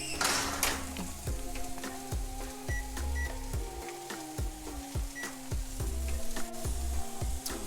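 Vegetables, asparagus among them, sizzling while sauteed in a pan, heard as a steady loud fry with repeated scraping stirs and clacks of a utensil against the pan, close and continuous, with no speech.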